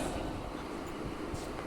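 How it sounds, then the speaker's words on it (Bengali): A slow-moving train on the banks of the Damodar river after a flood, a steady low rumble of rolling rail cars with no clear wheel clacks, heard at moderate distance. "সত্যিকারের ধীমগতির ট্রেন এটাই"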